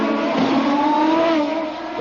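ChampCar race cars from the 2004 season lap the circuit, their engines holding a steady, high droning whine that stays loud and close throughout with no talk.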